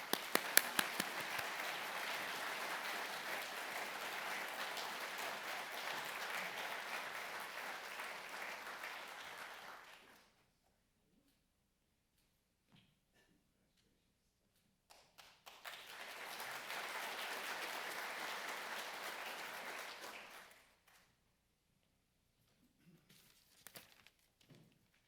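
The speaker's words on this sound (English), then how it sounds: "please join me in a richly deserved round of applause for Ed Maralda" A conference audience at a naval institute annual meeting breaks into sustained applause for about ten seconds, falls silent, then claps again for another stretch before a few scattered taps.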